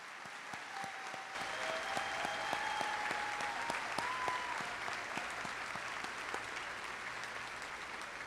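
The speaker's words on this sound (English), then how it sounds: "Please give them a round of applause." A graduation audience in a large venue breaks into sustained applause that starts abruptly and holds steady, with a few distinct individual claps standing out near the start.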